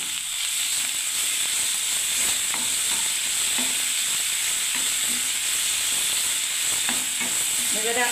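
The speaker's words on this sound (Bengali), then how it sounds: "এবার আমি আবার নাড়তে থাকবো বন্ধুরা।" Chhana stirred through sizzling gravy in a hot pan, a dense loud sizzle and hiss running unbroken throughout, with faint scraping strokes of a spoon beneath it.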